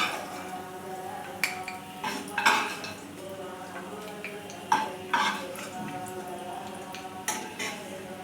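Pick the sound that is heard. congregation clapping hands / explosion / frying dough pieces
frying dough pieces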